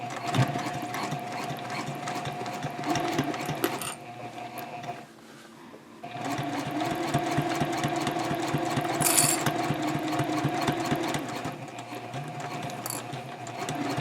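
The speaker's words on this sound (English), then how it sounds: "I'm going to go close to the pin, but I'm not going to sew through the pin or over the pin" A sewing machine runs steadily, top stitching a double zipper pouch along a curve, its rapid mechanical needle rhythm loud and close, pausing briefly midway before resuming.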